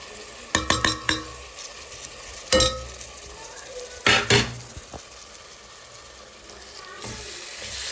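Mashed roasted eggplant for olo goes into hot oil with chili and cashews, bringing a burst of sizzling plus several sharp utensil clinks and scrapes against the pan, then a softer steady fry.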